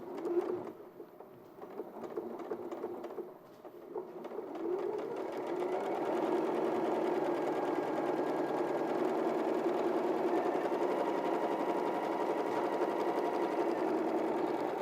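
A sewing machine stitches a quilt seam, starting with a few short, halting runs and then settling into a long, steady mechanical whir. The motor hums close and even.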